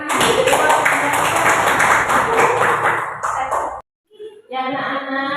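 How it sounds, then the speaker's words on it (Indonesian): A classroom of schoolchildren claps hands together in a dense, rhythmic burst that stops abruptly. A short pause follows, then young voices begin talking. "Tepuk tangan."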